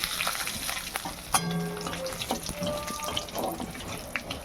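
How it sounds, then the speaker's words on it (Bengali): Radhuni, panch phoron and dried chillies crackle and sizzle in hot oil left from frying fish, a steady close fizz with a sharp spike partway through and light clinks and stirring over it. "একটু রাঁধুনি, একটু পাঁচফোড়ন আর শুকনো লঙ্কা তেলের মধ্যে ফোড়ন দেবো।"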